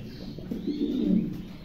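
Caged pigeons give a soft, low, throaty coo that swells briefly and fades, close by and fairly quiet, with no talk.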